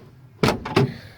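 A Ford XA Falcon wagon door being worked open: two sharp, close mechanical clunks a moment apart, loud against a quiet background.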